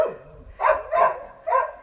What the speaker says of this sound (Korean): 지방을 남한테 내줬다고 초롱이한테 내줬다고 짖나 봐요.